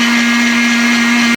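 A blender grinds coconut for coconut milk, a loud steady motor whine with a strong constant hum that cuts off abruptly at the end.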